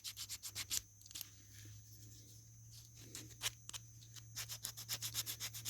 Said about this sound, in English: It's like a manual belt sander.